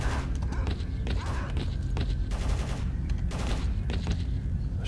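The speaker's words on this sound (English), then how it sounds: "Shooting is really, really close." Gunfire rings out nearby in the modded S.T.A.L.K.E.R. Call of Chernobyl game, with repeated shots and short bursts cracking at irregular intervals over a constant low rumble of ambience.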